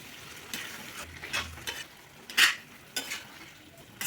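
A spoon stirs coriander paste through chicken curry in a pan, giving a soft background sizzle and a few distinct scraping strokes, one louder clatter near the middle, with no one talking.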